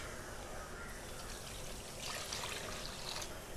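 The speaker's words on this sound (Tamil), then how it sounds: "நான் 1/2 கப் அளவு தண்ணி சேர்த்துக்கிறேங்க." Water is poured into gram flour kurma cooking in a pan, a faint trickling splash rising after a low, steady background hum, with no talking.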